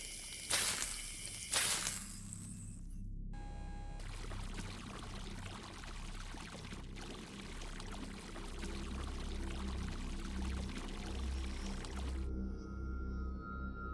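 Water flushing in the video game Revenge Of The Colon, a steady rushing, gurgling stream that lasts most of the scene after a few sharp bursts at the start, with no one speaking.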